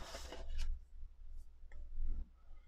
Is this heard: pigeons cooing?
no